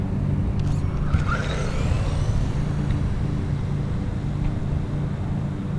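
A Haiboxing 2995 RC desert truck on a speed run, its electric motor whining steadily over a rough, constant rumble of tires and wind, loud and unbroken with no voices.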